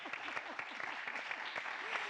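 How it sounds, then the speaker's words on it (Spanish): Audience applause at a sustainability discussion event, quiet and fairly distant, a steady patter of clapping from a modest crowd with voices faintly underneath. "Yo les voy a dar un aplauso"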